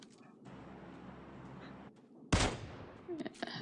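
A Kar98 bolt-action rifle shot in PUBG Mobile on the Miramar map cracks out sharply and loud over a low game-ambience bed, followed by a few smaller trailing impacts.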